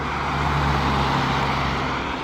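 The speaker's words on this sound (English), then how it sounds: "It's quite loud at the cars, isn't it?" Dense, loud road traffic roars steadily on a central Moscow street near the Bolshoi Theatre, a continuous close rumble of cars and trucks with no talk over it.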